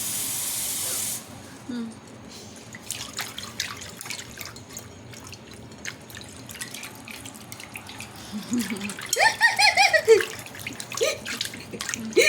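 Running water from a tap while plates and bowls are washed, a steady spray with drips and clinks, close by, with occasional voices speaking.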